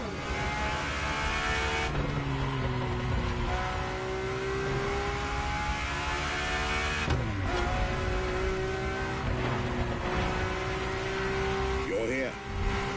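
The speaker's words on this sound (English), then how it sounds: "A Ferrari F50." A Ferrari F50 engine in The Crew Motorfest racing game drones steadily with shifting tones and gear changes, running continuously under people talking.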